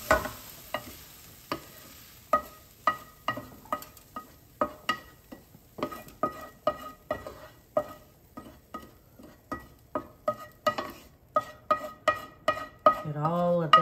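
A spoon is stirred through onions, garlic and peppers sizzling in a big pot for minestrone soup, making a steady, rhythmic scraping beat over a soft frying hiss, close by.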